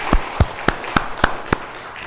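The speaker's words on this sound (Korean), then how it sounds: "자, 박수 한번 쳐 올리겠습니다." Six sharp, evenly spaced claps ring out in a steady beat inside a church congregation, each a crisp isolated smack with brief room echo.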